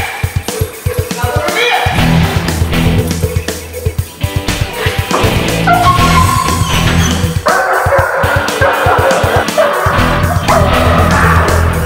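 A protection-trained dog barks repeatedly during bark and hold training, loud rapid bursts close by with some whimpering between, while a person talks intermittently.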